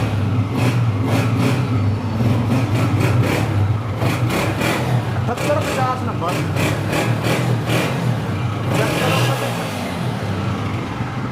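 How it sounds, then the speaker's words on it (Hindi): A 2022 Honda 125 motorcycle engine runs loudly and steadily close by, with a low throbbing idle and occasional revs, while someone talks over it. "होंडा 125 मॉडल 22, कड़क साउंड, दबंग साउंड।"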